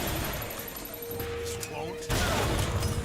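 Turret gunfire in the shooter BioShock Infinite, a rumbling burst of shots and impacts amid game noise, growing louder toward the end.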